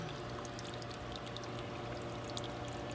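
A garden water fountain shaped like a cherub pouring from a pot, its pump running on low, gives a steady, soft trickle of falling water that stays constant and faint.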